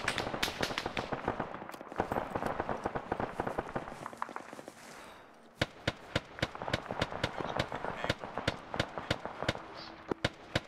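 Arma 3 PvP battle gunfire: a dense burst of rapid automatic fire for about five seconds, then a steady series of sharp, loud single shots at irregular intervals, with faint voice chat beneath.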